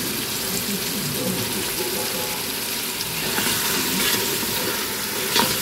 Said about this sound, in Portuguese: Já começou a fritar